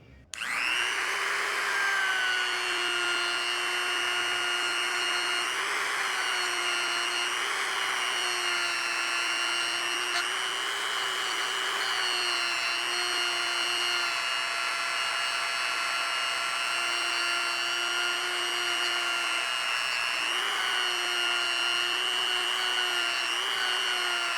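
A Hanabi 135W rotary tool cuts into the other side of a pair of steel pliers, a loud, steady high-pitched whine with grinding overtones that runs continuously with slight pitch dips under load, with no talking.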